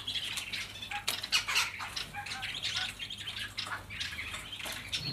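Straw-headed bulbuls give rich, bubbling whistled calls and chirps in quick overlapping bursts, fairly close, over a low background hum.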